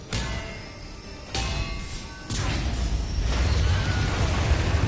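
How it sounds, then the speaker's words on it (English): Rumbling explosions in Mass Effect 2 Legendary Edition hit one after another, each boom giving way to a dense roar that builds louder toward the end. "Explosions everywhere."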